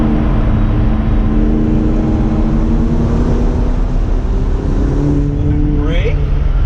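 McLaren 570S engine accelerating on a race track, a loud steady engine drone with rising pitch near the end, heard from inside the car under speech.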